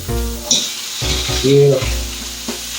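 Garbanzo beans and black beans sizzle and crackle in a hot skillet with stirring scrapes, close and loud over about three seconds, while a voice says a single word.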